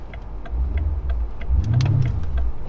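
A BMW M5 Competition engine idles with a low rumble, then revs up briefly, accompanied by a few light ticking clicks close by.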